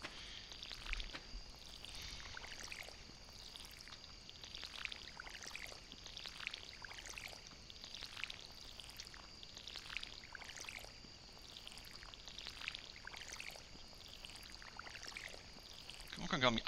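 Watering can splashing onto crops in Stardew Valley, a steady run of soft, evenly spaced pouring pulses repeating one after another at moderate volume.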